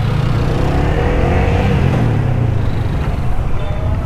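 A motorcycle with a six-speed gearbox accelerates to overtake, its engine a continuous loud rumbling roar heard from the rider's position with heavy wind noise throughout and no speech.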